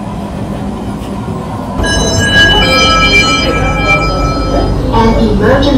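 C151 metro train running from Tanah Merah toward Expo, with a steady loud rumble of wheels on track and a rising whine as it gathers speed, while a station announcement plays over it.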